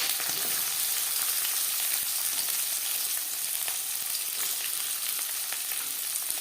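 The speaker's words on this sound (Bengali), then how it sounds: "3 চামচ রিফাইন্ড অয়েল গরম করে নেওয়ার পর দিয়ে দেবো পেঁয়াজ কুচি" Chopped onion and slit green chillies frying in three spoons of hot refined oil for a red amaranth stir-fry, giving a loud, continuous crackling sizzle with small pops close by.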